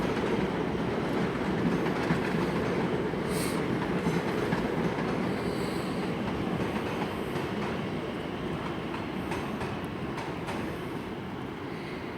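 A TfL Rail Class 345 electric train sits at London Paddington station, giving a steady, loud rumble and hum of rolling stock, with faint station noise and no talk.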